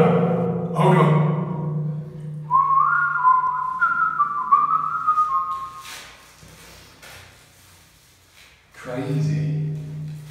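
Whistling inside a Swedish war bunker, a few seconds of sustained pitched tone ringing with echo in the concrete space, moderately loud, with voices talking just before and after.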